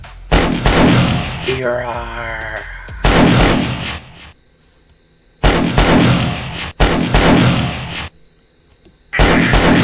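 Gunfire from the classic video game Last Stand, a series of loud, sharp bursts spaced a second or two apart, with a brief stretch of a voice near the start.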